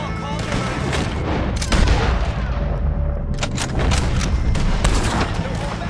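Rapid gunfire crackles in Red Dead Redemption 2 during a shootout with O'Driscoll gang members, dense repeated shots and booms close by in an unbroken barrage, with no talk.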